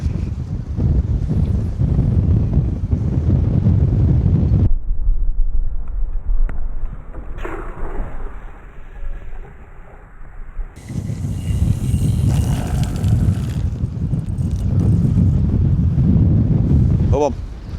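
Strong side wind buffets the microphone on an exposed coast during a sea fishing session, a loud, steady roar with surf underneath that drops away briefly before rushing back at full force.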